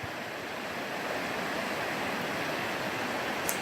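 Fast, deep water of Montana Creek rushes past in a steady, dense roar. It stays close and constant, with no voices.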